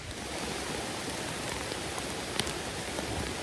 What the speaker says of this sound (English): That rain is really coming down hard right now,